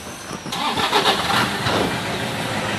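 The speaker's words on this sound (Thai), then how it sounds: "สตาร์ทเครื่องเลย" A Toyota Vigo pickup with a smoke problem cranks and fires at about half a second, then settles into a steady, fairly loud idle close by, with no talk over it.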